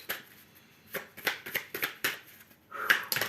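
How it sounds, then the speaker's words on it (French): A tarot deck handled while a card is drawn: a quick series of soft papery flicks and riffles, close and fairly quiet, with no talking. "Je vais tirer une dernière carte"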